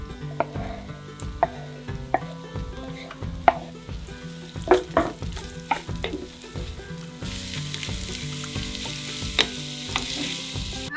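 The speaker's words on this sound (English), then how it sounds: "now we're going to go ahead and we're going to brown our onions" Onions browning and caramelizing in a pan for a beef curry chili, a steady close sizzle broken by repeated scrapes and clatters of stirring throughout.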